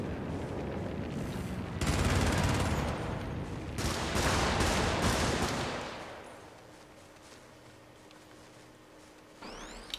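Gunfire in a video game battle: dense, loud bursts of rapid automatic fire and explosions in two long waves, trailing off into quieter rumble and a faint whirring hum.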